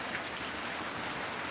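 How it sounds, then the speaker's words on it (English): Steady, dense rain drums on a corrugated roof at night, a continuous close wash of patter with no voices over it. "the rain on the corrugated roof, best thing ever."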